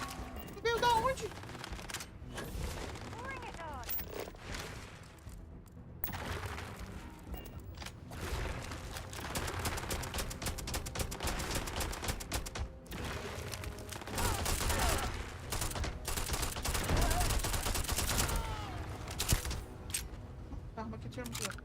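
Rapid bursts of video game weapon gunfire, repeated sharp shots and sustained volleys over about twenty seconds, loud and close, with players talking over them throughout.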